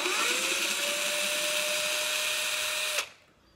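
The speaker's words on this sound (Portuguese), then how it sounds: "Tá furando o ukulele." A power drill bores into an Ohana CK-10S ukulele to fit a pulley, a loud sustained whine lasting about three seconds with a steady pitch, then cutting off abruptly into quiet.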